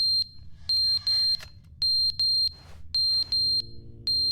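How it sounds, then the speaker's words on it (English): In the video game The Stanley Parable, a fire alarm sounds a loud, high, repeating electronic beep in short regular bursts, steady and alone with no talking. "Is that a fire alarm?"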